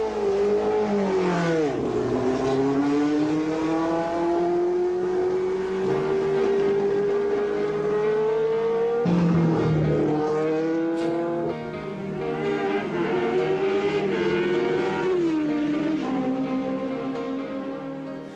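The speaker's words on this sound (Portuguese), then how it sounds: "O carro sai do box, devagar." Formula 1 car leaving the pit box slowly, a steady loud engine drone with a tone that rises and holds, dipping briefly midway before pulling again, with no talk over it.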